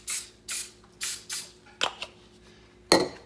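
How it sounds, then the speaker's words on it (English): Short hissing bursts from a cooking spray can into a muffin pan, four quick sprays in a rhythm, then a couple of clicks and one last spray. "I'm just gonna go ahead and spray the inside so that they don't stick"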